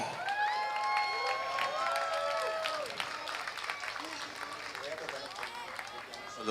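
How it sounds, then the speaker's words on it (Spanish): Applause and cheering from a crowd fill the space, steady and fairly loud, with scattered voices mixed in throughout. "Fuerte el aplauso para Trío Blue"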